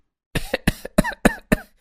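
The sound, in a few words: cough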